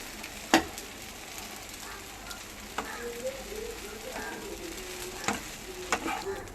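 Idli upma being sautéed in a pan, a quiet steady sizzle broken by a few sharp spatula taps and scrapes, close but faint.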